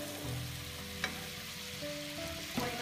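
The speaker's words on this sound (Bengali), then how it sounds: "হলুদ মরিচের গুঁড়া, জিরার গুঁড়া, গুঁড়া মশলা এবং রসুনের পেস্ট দিয়ে মশলাটাকে কষাতে" Spice paste of turmeric, chili powder, cumin powder, ground spices and garlic paste frying in a pan, a steady close sizzle with a couple of brief clinks from stirring, no voices.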